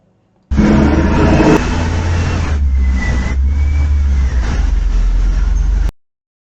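A black truck's engine revs hard with wheels spinning, a loud steady roar with a deep low rumble that holds for about five seconds before cutting off abruptly.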